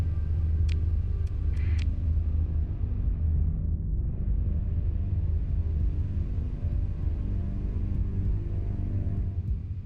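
Continuous deep rumble of a storm in the space game Starsector, a steady loud low-end roar throughout, with a few faint high ticks early on.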